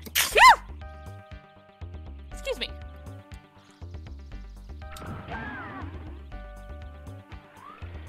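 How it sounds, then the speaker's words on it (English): A sharp sneeze bursts out at the start, from a character in the video game The Misadventures of Tron Bonne, followed by bouncy game music, whinnying and clattering effects. "Gotta sneeze."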